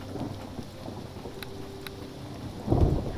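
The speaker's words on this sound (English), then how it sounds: "Oh, no, it is raining." Steady rain in the Aielund Saga fantasy role-playing game: a constant wash of rainfall with a low thunder rumble swelling near the end, no talking.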